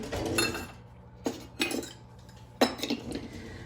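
Metal kitchen utensils clink and clatter as a dry measuring cup is fetched while baking oatmeal cookies: a busy rattle at first, then three separate sharp clinks, close and clear.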